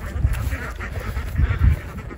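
Gold Star ducks free ranging outdoors, giving a few low, throaty quacks in a loose burst against steady background noise, fairly close.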